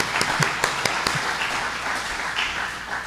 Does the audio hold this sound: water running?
no